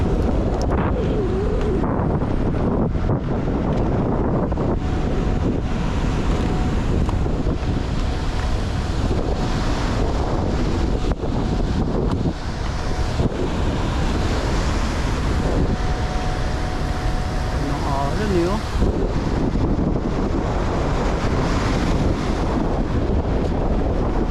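Big sea waves surge and crash at a pier, a heavy continuous roar of surf mixed with strong wind buffeting the microphone, loud and close with no talk.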